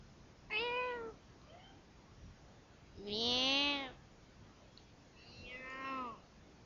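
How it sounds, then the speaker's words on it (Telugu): A cat meows three times, drawn-out harmonic cries spaced a couple of seconds apart, the middle one longest and loudest, against a quiet background. "పిల్లి పిల్లి పిల్లి పిల్లి ఏమంటుంది?"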